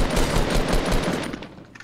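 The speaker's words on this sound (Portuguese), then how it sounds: "Opa, eu tô vendo tiro em cima" Rapid bursts of automatic gunfire in the video game Fortnite, loud and close, rattling in a fast rhythm that thins out toward the end.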